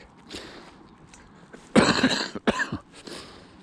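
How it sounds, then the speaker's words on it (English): A person coughs a few times in a short, harsh burst, close by, after a quiet stretch with faint shuffling. "Excuse my odd cough."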